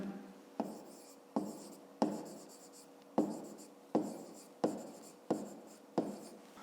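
A pen writes out a maths solution for a fifth-grade exercise on paper, in a quiet close series of about nine short scratchy strokes, each starting sharply and then fading.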